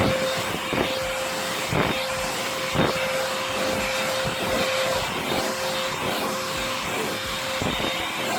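A Dibea C17 cordless vacuum cleaner running at full power, a loud steady roaring whine with a constant motor tone and some rattling bumps as it moves.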